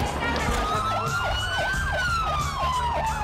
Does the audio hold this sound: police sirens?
yes